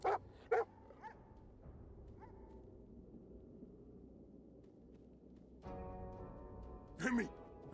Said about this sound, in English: Holy hellhounds. Those dogs sound out for blood.